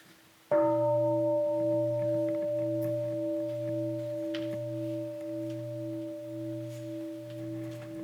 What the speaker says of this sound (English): So now we hear sound of the bell.